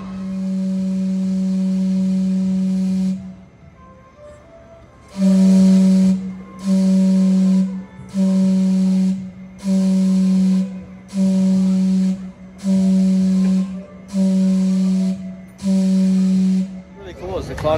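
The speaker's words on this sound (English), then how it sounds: "The clock just rang actually, and we had it whistle" A steam clock in Vancouver blows its whistle loudly and close by: one long steady tone, a pause, then a run of eight shorter evenly spaced blasts with hissing steam between them.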